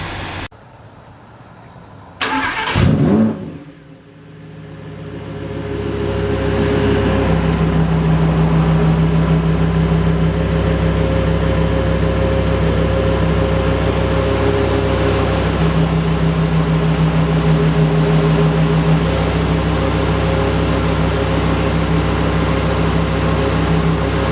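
Lamborghini Huracan engine in Corsa mode fires with a sharp, loud burst, then settles into a deep, steady, powerful drone that holds for about twenty seconds, with a slight shift in tone partway through.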